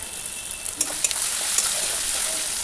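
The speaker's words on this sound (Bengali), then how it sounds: "আমার পেঁয়াজ টমেটো কিন্তু দুটোই ভাজা হয়ে গেছে" Onion and tomato fry in a pan with a bright, even hiss and a few scattered crackles and clicks close by.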